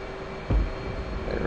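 Jet engines rumble loudly on takeoff in the DCS flight simulator game, a steady low roar with a sudden thump partway through and continuing engine drone, no talk.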